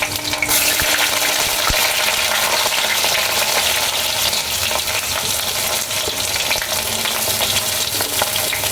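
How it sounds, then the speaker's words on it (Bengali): Brinjal sizzles in hot oil as it is fried for a vegetarian dish, a loud, dense, steady crackle that starts abruptly near the beginning and continues close up, with occasional stirring. "এবার একে একে সব সবজিগুলো দিয়ে ভেজে নেব। প্রথমে দিয়ে দিচ্ছি বেগুন,"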